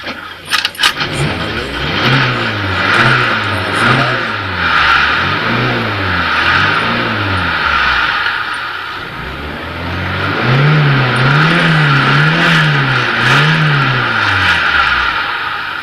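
A car engine fitted with a Solex carburetor runs up close and loud, revving in repeated rising and falling surges over a steady idle, with no voices.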